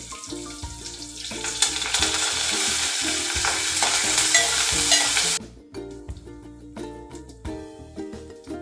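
Onions and curry leaves fry in dal in a home kitchen, a loud sizzling hiss with stirring for about five seconds, then cutting to quieter clinks and kitchen clatter.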